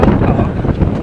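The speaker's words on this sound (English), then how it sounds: "It's windy." Strong wind gusting across the microphone outdoors, a loud continuous low rumble and buffeting with no break across the short stretch, no voices.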